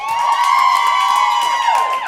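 A comedy club audience cheers and whoops loudly for about two seconds, a sustained wall of voices with shrill shouts rising above it.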